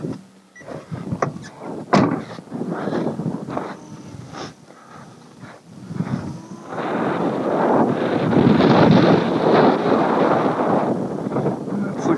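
Gusty outdoor wind buffets the microphone with uneven rushes that build to a loud, sustained roar in the second half, with some handling bumps and a person speaking briefly early on.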